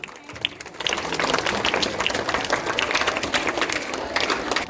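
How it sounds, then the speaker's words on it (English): Applause after a school Dussehra celebration performance, a dense crowd of clapping that swells after a brief quieter start and continues steadily for several seconds. "Please give them a huge round of applause."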